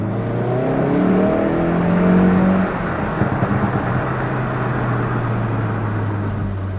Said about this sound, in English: You can immediately hear a much bassier and raspier exhaust note.